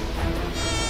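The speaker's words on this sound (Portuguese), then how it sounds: "Detetive Labrador, tem muitos mosquitos na cidade inteira!" A close, continuous high-pitched buzzing of mosquitoes, steady and insistent throughout with no pauses.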